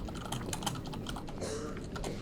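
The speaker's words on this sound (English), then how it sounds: "Oh, Colin's typing." Computer keyboard typing in a Discord chat, a steady run of small clicks and taps at close range, dense and continuous under a faint room background.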